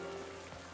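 Rain in the Pokémon Scarlet video game, a steady, faint patter of drops with a constant tone running beneath it.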